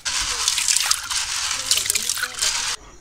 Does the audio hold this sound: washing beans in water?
yes